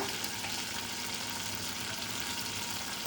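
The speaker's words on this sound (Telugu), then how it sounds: "ఇప్పుడు ఫ్రై చేసుకున్న ఆయిల్ మిగిలింది కదండి, దాంట్లోని కొంచెం జీలకర్ర" Cumin seeds sizzle in oil left over from frying eggplant for an Andhra-style stuffed eggplant curry, a continuous close crackling hiss at moderate level with no voices.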